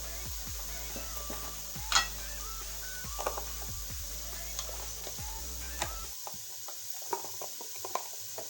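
Onion and garlic frying in a pan with red chili powder, a soft steady sizzle with scattered clicks and a few sharper stirring taps, faint and close, dropping off to near quiet toward the end.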